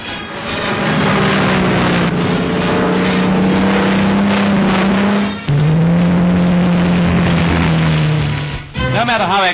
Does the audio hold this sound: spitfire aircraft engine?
yes